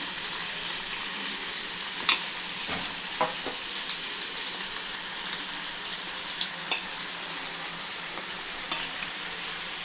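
Onions, green chilies and ginger-garlic paste sizzle and fry in a pan for a chicken mango curry, with a steady frying hiss and occasional soft clacks of a stirring spoon against the pan.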